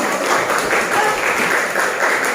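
Steady applause from a group, a dense wash of clapping that holds evenly throughout.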